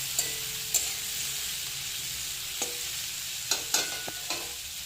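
Vegetables with green chillies sizzle steadily in a pan, close and fairly quiet, with a few sharp scraping clicks of a spatula stirring through the fry.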